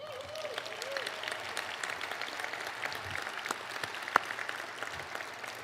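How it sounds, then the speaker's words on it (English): Audience applause at a small-business celebration gala, steady dense clapping from a large crowd filling the whole stretch at moderate level, with a sharp louder clap standing out near the end. "Might be a good time to give yourselves a round of applause."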